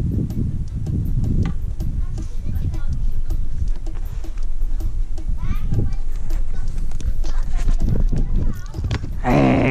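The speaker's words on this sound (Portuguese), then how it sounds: "É, cavalo." A horse's hooves clip-clop in a steady walking rhythm, close and fairly loud, with people, including a child, talking over the clatter.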